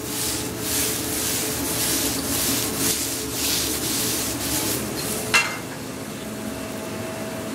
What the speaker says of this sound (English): We got our portobello mushrooms sizzling.